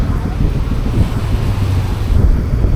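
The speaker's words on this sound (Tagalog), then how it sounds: "ito, kita nyo ba, alon." Ocean waves surging onto a rocky northern shoreline, a steady loud wash of surf mixed with heavy wind buffeting the microphone throughout.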